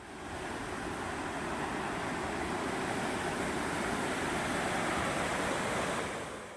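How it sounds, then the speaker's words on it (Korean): Mountain valley stream at Odaesan near Sangwonsa temple, clear water flowing with a steady, full rushing wash that stays even and fairly close throughout, with no voices. "버스를 내리자마자 시원한 계곡 물소리가 들립니다."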